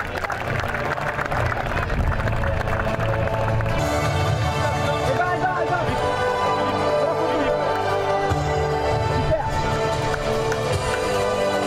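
Audience applause at the 2012 Tournoi des Costières award ceremony, honoring a tournament prize winner, sustained dense clapping from a crowd with music playing underneath throughout.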